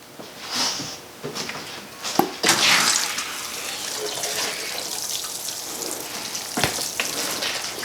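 Water poured into a homemade soil block mix, a splashing, trickling pour in bursts that settles into a steady wash, with no voices.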